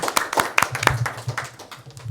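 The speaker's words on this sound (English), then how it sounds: "We can clap for that." Audience clapping at a school board of education meeting, a brief, loose round of scattered hand claps from a small group nearby, uneven and quickly tapering off.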